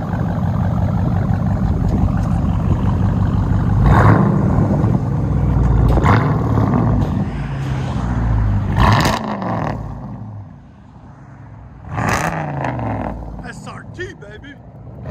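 A 2020 Dodge Durango SRT with true dual straight pipes idles loudly up close, a deep uneven burble broken by several sharp throttle blips, with wind noise and people talking around it.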